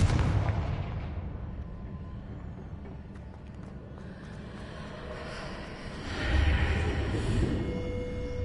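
A Confringo blasting spell goes off in Hogwarts Legacy with a loud, sustained rumbling burst that fades and then swells again into a second roaring wave, with no talk over it.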